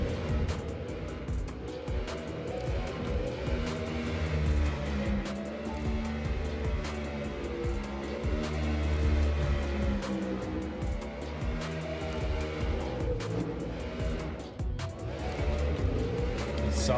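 An RTR Mustang drift car in competition at Irwindale, engine roaring steadily with tire squeal, heard at a distance for the whole stretch with no talk over it.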